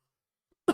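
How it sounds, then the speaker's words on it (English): A single short, sharp cough from an itchy, irritated throat bursts out close and loud after near silence. "my throat keeps feeling itchy and forcing a cough out here"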